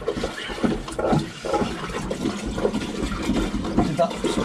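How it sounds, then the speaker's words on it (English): A toilet flushes aboard a sailboat during work on its bilge, giving a continuous watery gurgle and rush with people talking over it. "flushing the toilet"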